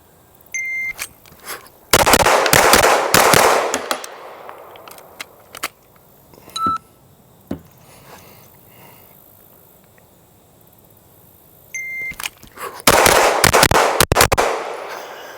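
Shots from a CZ DWX pistol ring out in two sharp bursts of several rapid cracks each, loud and close, separated by quieter gaps with a few isolated clicks and pops.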